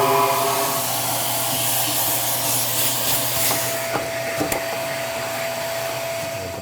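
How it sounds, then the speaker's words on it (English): A vacuum cleaner with an adapter runs steadily while cleaning out a Harman P-series pellet stove, with a continuous loud whooshing drone and a few small clicks and knocks of debris. "Now I'm gonna vacuum everything up"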